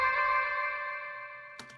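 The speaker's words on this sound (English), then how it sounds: "it's just repeating too much and it's clashing with the reverb" A sampled beat in Logic Pro runs through a delay effect set to repeat too much, so its echoes clash with the reverb: a sustained, layered tonal chord rings and slowly fades, then one sharp hit lands near the end. No one speaks.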